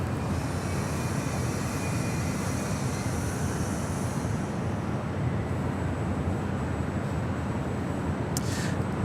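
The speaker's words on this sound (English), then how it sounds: "A321 taking off there." An Airbus A321 airliner takes off at Los Angeles International Airport, heard as a steady, loud broadband jet roar that holds at an even level throughout, with no talk over it.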